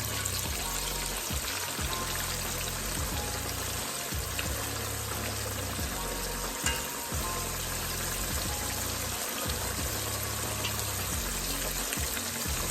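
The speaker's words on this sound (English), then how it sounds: "These big pork chops, I'm only gonna be able to cook 2 at a time." Big pork chops frying two at a time in a pan give off a steady, moderately loud sizzle and crackle that holds evenly throughout, over a low background hum.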